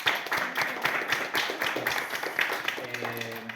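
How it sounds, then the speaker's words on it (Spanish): Audience applause after a presentation: a quick, rippling patter of many hands clapping at moderate volume, with a voice speaking over the room as the clapping continues. "ahora sí un aplauso para..."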